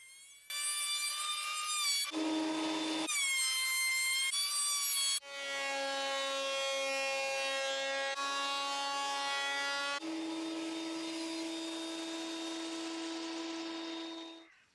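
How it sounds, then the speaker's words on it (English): A thickness planer machines wood in a workshop, a loud high-pitched whine with strong tonal harmonics in several sustained passes, the pitch dropping and shifting as boards feed through, with no talk. "I use my thicknesser."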